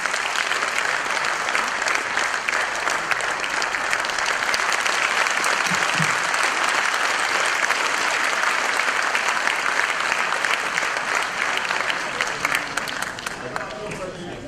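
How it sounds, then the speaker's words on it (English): Sustained audience applause fills a large hall at a bank's platinum jubilee celebration, steady and dense throughout and tapering slightly near the end. "Could we have a round of applause, please?"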